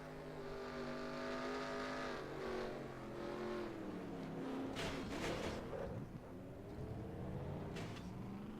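Race cars lap a track in the NASCAR Racing 2003 video game, heard from on board: engines rev and shift pitch as they climb and drop, and other cars roar past, loud and continuous.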